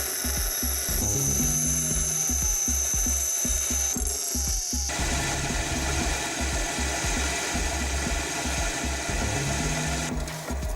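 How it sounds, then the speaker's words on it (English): A grinding machine shapes a metal billet in a workshop, giving a loud, steady mechanical whir with rapid chattering pulses and a pitch shift partway through, close by and continuous, with no voices. "With the help of the grinding machine, we give the desired shape."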